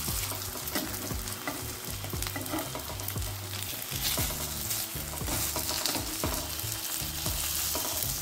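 Water lily fritters sizzle steadily in hot oil in a wok, with occasional soft clinks and scraping as they are turned, the frying close and continuous with no talking.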